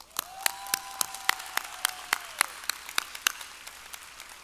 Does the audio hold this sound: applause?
yes